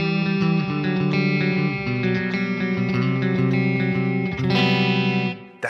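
A clean electric guitar on the middle pickup, played through a Bogren Marshall amp sim with reverb, rings out in sustained chords with bright, shimmering overtones and a lingering wash that fades at the end.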